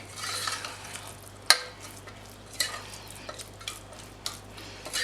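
A utensil stirs béchamel sauce for homemade lasagna, making soft scraping and swirling sounds with a few sharp clinks against the pot, close and fairly quiet over a low steady hum.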